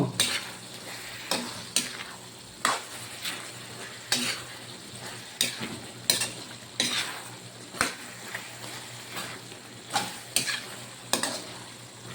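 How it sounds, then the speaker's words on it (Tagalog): Sautéed eggplant stirred in a frying pan, a steady sizzle punctuated by about a dozen regular scraping clacks of a utensil against the pan, close and clear. "haluan na, haluin natin uli"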